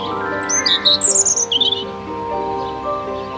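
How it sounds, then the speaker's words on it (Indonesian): A robin on a moorland garden setting gives a short burst of sharp, high chirping calls, fairly close and clear over a sustained musical background. "Apa itu burung? Oh, itu adalah Robin."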